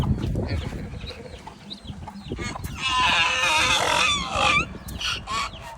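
Chickens cluck and squawk up close, with a Barred Rock rooster's loud crowing call rising in the middle, then scattered clucks and rustling around it.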